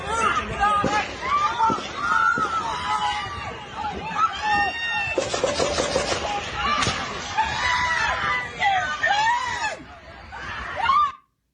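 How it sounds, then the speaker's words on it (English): Recorded crowd at an event with people screaming and shouting in overlapping bursts, a dense chaotic babble of raised voices that cuts off abruptly at the end. "And a lot of screaming."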